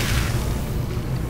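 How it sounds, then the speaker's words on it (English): Spore Mine explosion in the video game Dawn of War II, a loud, dense boom filling the whole short clip with rumbling low end and no talk. "Oh, the spew, and they're dazed from the explosion."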